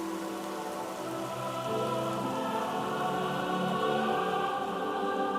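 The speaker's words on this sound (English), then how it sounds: "40 days, 40 nights. The rain did not stop." Heavy rain pours in a dense, steady hiss that swells slightly partway through, with a sustained tonal drone underneath and no voices.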